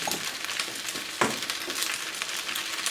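Sauce sizzling and frying in a hot pan while cooking the Thai noodle dish Pad See Ew, a steady crackling hiss with a sharp spatter partway through, close and without talk.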